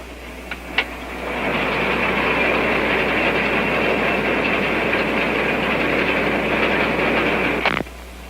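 A loud, steady combine harvester roar swells in after a soft click as the cab door opens, holding at an even level, close and continuous, then cuts off with a clunk near the end.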